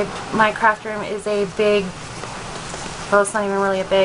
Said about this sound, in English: this little rainstorm that we're having in Florida right now kind of sounds like somebody's trying to cut my building open with a can opener.